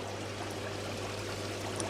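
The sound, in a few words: water flowing into koi pond filter ring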